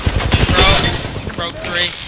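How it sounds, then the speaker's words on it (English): Rapid automatic gunfire rattles through a video game firefight, dense and loud bursts layered with overlapping shots while players talk over it. "Taking fire."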